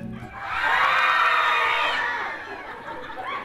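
A studio audience shouts together in a loud, sustained group yell during a live Argentine children's music show, swelling over about two seconds and then fading into scattered voices.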